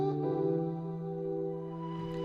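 A chopped vocal sample used in an experimental trap beat, a sustained soft tonal voice held for about two seconds with no other sounds.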